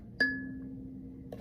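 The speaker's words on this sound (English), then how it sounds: "Really, it's just a kalimba" A single bright metallic kalimba pluck rings out clearly, resonating in a large box, and sustains with a long, slowly fading tone, followed by a second soft attack near the end.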